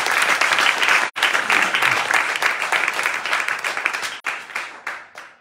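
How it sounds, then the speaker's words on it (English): An audience at an evening devotional program claps loudly and steadily, the applause broken by two brief gaps and thinning toward the end. "Big clapping, please."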